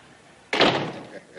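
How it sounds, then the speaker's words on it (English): A door in a house swings shut with a single close, heavy slam that decays over a fraction of a second, standing alone against a quiet room. "Hey, close the door, will you?"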